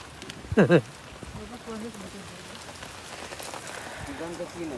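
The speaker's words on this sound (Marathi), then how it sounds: "पाऊस पण जोरात आला" Steady, heavy rain hisses and patters on a surface at a farm throughout, with a brief voice near the start.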